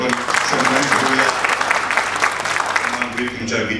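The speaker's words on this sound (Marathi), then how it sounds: "आता मोठ्याने टाळ्या वाजवू आपण सन्मान करूया." Guests at a traditional wedding break into warm, dense applause, close and loud, many hands clapping steadily for a few seconds with some voices mixed underneath.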